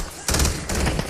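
Rapid bursts of automatic gunfire in a Call of Duty Black Ops 7 multiplayer match, loud and close, rattling in two clustered volleys with a short gap between them.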